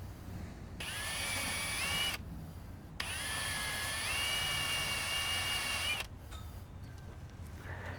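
A power tool with a sanding disc grinds powder coat paint off a metal hiker chassis, two sustained high whining runs with a brief pause between, close up, followed by quieter handling noise.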